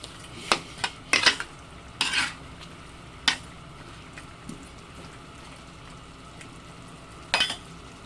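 Cheese cubes stirred into buttered chicken adobo in a pan, a few scattered utensil scrapes and clinks over a faint low hiss, with long quiet gaps between strokes.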